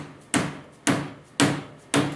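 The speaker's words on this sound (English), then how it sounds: "This is a lead hammer, meaning that it's a rubber hammer filled with lead." A rubber hammer filled with lead strikes four times at an even, steady pace, each blow a sharp, close thud that decays quickly, with quiet gaps between hits and no voices.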